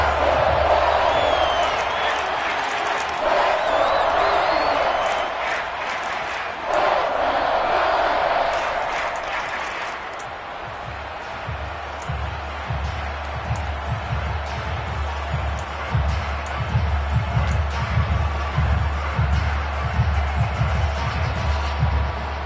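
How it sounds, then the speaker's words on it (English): A crowd at an American football stadium in Detroit roars and shouts as a replay is shown, a loud, swelling wall of voices that dips midway and then settles into a lower murmur with rhythmic thumping. "Plenty of shouts from this crowd as they watch the replay."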